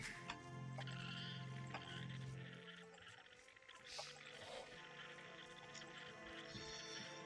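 Faint sheep bleats from the Age of Empires II strategy game, a 1v1 Arabia match playing the Huns, sound in the first seconds, mixed with ticking and other soft in-game effects at low volume.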